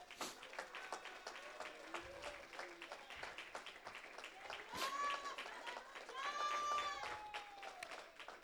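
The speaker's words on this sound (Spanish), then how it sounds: "Dele un aplauso fuerte al Señor." A church congregation applauds in praise, the clapping running throughout under a preacher's voice and, later, sustained musical or sung tones, moderately loud and steady.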